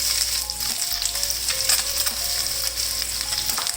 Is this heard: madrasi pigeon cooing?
no